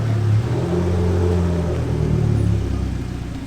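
An Abarth car engine hums in a low, steady rumble close by, holding an even idle with slight pitch wavers.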